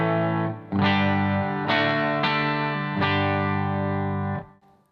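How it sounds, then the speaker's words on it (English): Clean electric guitar chords strummed a few times on a Telecaster with the pedal in true bypass, bright and sustained, ringing out alone and fading at the end. "Let's begin by first hearing my true bypass sound."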